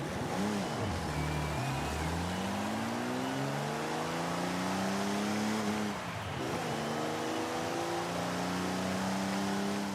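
A Corvette inline-six engine revs in the Forza Horizon 5 racing game, its pitch sweeping up and down through repeated climbs and drops as the car accelerates and shifts, loud and steady for the whole stretch.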